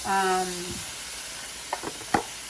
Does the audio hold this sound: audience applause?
no